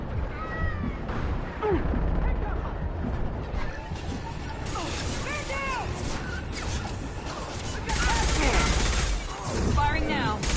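Mass Effect 2 combat gunfire with sharp bursts and impacts, growing denser and louder in the second half with heavy crashes near the end, over a dense game soundscape with talk throughout.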